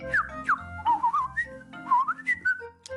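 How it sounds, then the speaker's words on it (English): A cartoon character whistles a short, wavering tune in quick bursts, with sliding pitches and brief pauses between phrases, clear and close, with no talking over it. "Now flap your arms like a bird and whistle."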